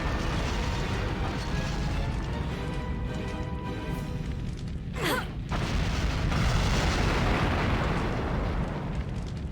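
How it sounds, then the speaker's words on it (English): Explosions in the game Onimusha Warlords, a continuous rumbling barrage of booms and bursts, loud and dense, with a sharp sweeping whoosh midway and no talking. "But things are already starting to explode."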